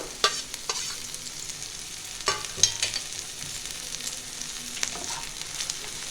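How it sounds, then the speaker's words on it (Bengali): Onion, garlic, ginger and green chilies fry gently in a pan with a soft, steady sizzle, broken by a few sharp scrapes and taps of stirring. "এইটা একটু হালকা করে আমি ভাজবো।"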